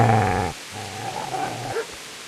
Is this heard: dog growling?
yes